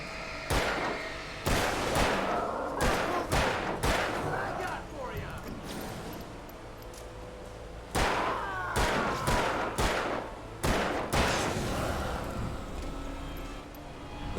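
Gunshots in the video game Alan Wake, sharp loud reports fired in uneven clusters with short pauses, plus a few echoing impacts and some speech in the background.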